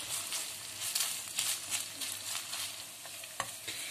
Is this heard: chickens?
no